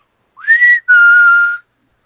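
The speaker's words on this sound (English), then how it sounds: "I whistle." A person whistles two clear notes, a short rising one followed by a longer steady tone, close and loud in otherwise quiet surroundings.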